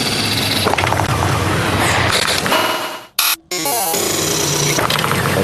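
Dense granulated cuts from an old remix form a loud, smeared wall of noisy, roaring texture that holds steady, drops out abruptly around the middle with a short bright burst, then resumes.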